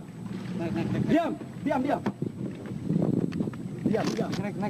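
A fishermen's motor boat moving across open water, a steady engine drone with wind and splashing close by, while people talk and shout loudly over it throughout.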